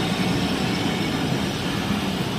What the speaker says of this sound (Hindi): काफ़ी अच्छी ट्रेन है अपने रूट की